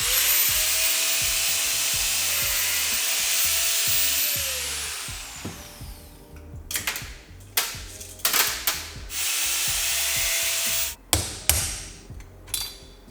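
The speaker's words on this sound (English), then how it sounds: "You have to grind it down, so we will show you how to do it." Angle grinder cutting down a bearing on a BMW M-series limited-slip differential, a loud steady high whine for several seconds, then stops followed by scattered metallic taps and knocks.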